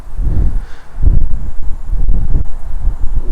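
Strong typhoon wind buffets outdoors in loud rolling gusts, rumbling heavily against the microphone and swelling and easing in waves without pause.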